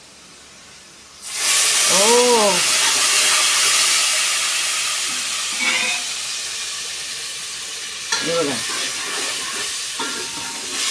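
Cooked dal tipped from a pressure cooker into a hot tempering with hing sets off a sudden loud, hissing sizzle that slowly eases but keeps crackling, as someone speaks briefly.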